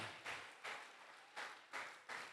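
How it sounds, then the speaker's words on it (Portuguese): A church congregation applauds in bursts of clapping, several rhythmic swells rising and fading at a moderate distance. "Aplaude o Senhor com alegria, dando glória a Deus, igreja."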